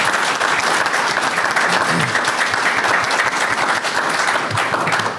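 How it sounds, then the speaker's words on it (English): Loud, dense applause from an audience at a Ward 3 candidates' coffee forum hosted by a realtors' association, steady sustained clapping close by that fills the whole stretch. "Let's give them a round of applause."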